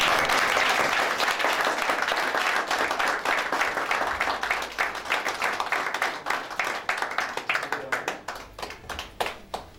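A church congregation applauds together in dense, loud clapping that slowly thins into scattered, separate claps.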